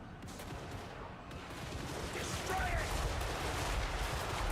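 Massed rifle volleys from an infantry gun line in a Warhammer battle game, a dense crackling fusillade building from moderate to louder, with voices underneath.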